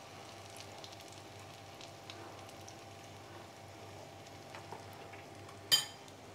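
An omelette of beaten egg and tomato batter cooks in a pan over a low gas flame, giving a faint, steady soft sizzle with one brief clink near the end.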